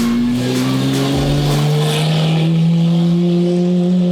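A loud exotic car engine runs close by during Car Week with a deep, sustained tone that rises gradually in pitch as it revs, no talking.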